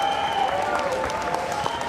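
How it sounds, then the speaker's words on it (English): A crowd applauds at a bare knuckle fighting event in an expo centre hall, dense clapping and cheering under a sustained tonal hum from the sound system. "by round of applause, do you want to see him return?"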